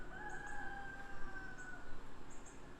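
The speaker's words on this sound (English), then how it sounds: "my rooster is back here. He's going off" A rooster crows in the background on a farm in the morning, its drawn-out call rising twice over steady outdoor ambience with faint bird chirps.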